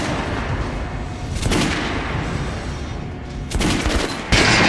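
Gunfire in Metro Last Light Redux, a game set in post-apocalyptic Moscow, loud and close, with heavy blasts breaking through a steady dense roar of background noise, and no talking.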